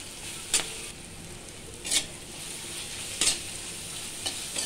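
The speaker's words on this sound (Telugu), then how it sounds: "దీంట్లో ఇందాక మనం పట్టించుకున్న మసాలా పేస్ట్ వేసేస్తున్నాను" Masala paste sizzles in a hot pan for a village-style mashed potato curry, a steady close hiss broken by four sharp scraping stir strokes spaced about a second apart, with no talking.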